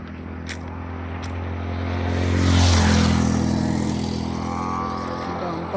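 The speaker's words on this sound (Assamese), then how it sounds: "অকল গাড়ী কাৰণে হাল্লা হয়" A road vehicle passes a quiet roadside spot, its engine rumble swelling to a peak midway and then fading away, with a steady low traffic hum underneath and no voices.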